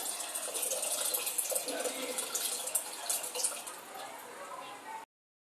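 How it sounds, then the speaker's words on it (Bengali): Cold water pours into a clay pot holding mango, a continuous splashing trickle that runs steadily for about five seconds and then stops abruptly. "কিন্তু বেশ খানিকটা ঠান্ডা জল দিয়ে দেবো ফ্রিজে।"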